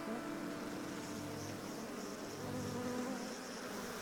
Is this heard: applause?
no